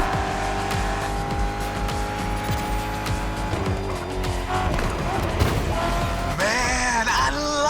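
Muscle car racing in The Crew Motorfest, a loud, steady engine roar with tire squeal and shifting revs, running continuously under a music soundtrack.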